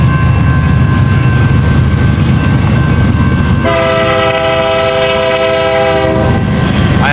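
An eastbound Union Pacific freight train rolls through Cajon Pass, its loud rumble running steadily before the horn blasts in a sustained chord of several seconds that then cuts off while the wheels keep rumbling close by.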